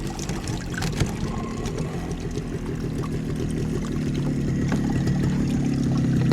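Old green coolant drains from the cooling system of a Mercedes W201 190D, pouring and splashing steadily into a container close by, growing slightly louder and fuller as the flow continues, with no talk.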